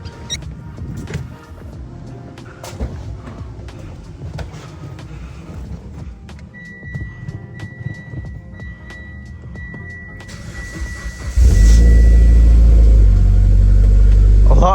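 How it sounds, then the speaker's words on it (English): Mitsubishi EVO X, built to about 500 hp with a corrected MAF housing, turns over and fires around eleven seconds in, jumping into a loud, steady close idle after quieter mechanical clicks and a whine. "Let's go ahead and turn on the car for the second time with the right MAF housing"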